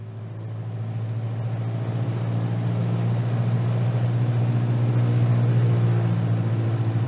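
A loud, steady aircraft engine drone fills the cabin during flight in a radio drama, a strong low hum that swells slightly and holds constant with no talk over it.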